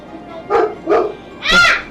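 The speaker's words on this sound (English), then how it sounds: "it's just Marley barking at a truck" A pet dog named Marley barks three times in quick succession at a passing truck, the short yelps spaced about half a second apart, loud and fairly close indoors.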